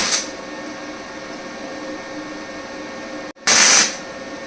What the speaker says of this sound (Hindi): मैग वेल्डिंग से आप बहुत बारीक काम भी कर सकते हैं, जैसे मैं बोल्ट में नट को वेल्ड कर रहा हूं।